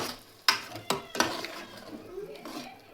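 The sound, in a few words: stirring tamarind juice in a pot for fish curry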